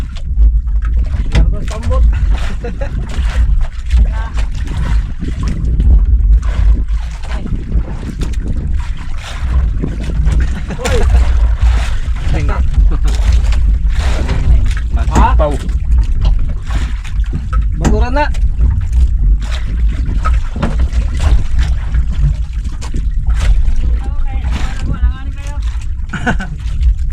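Pumpboat motor chugging on open water, loud and close with a continuous low throb and wind buffeting, while people talk over it intermittently.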